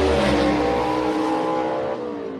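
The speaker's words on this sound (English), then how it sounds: "Start for Charlie Lee and Colby Welch." Gasser drag race cars launch at the start at Shadyside Dragway, a loud, close engine roar with dense harmonic revving that holds strong for about two seconds, then eases slightly as the cars pull away.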